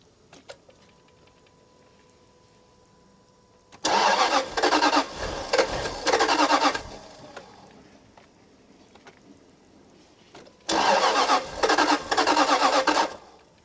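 A Jaguar XK8 engine cranks over in two bursts, each about three seconds long, with a steady chugging starter rhythm. The bursts are close and loud against a quiet workshop background, and no one speaks.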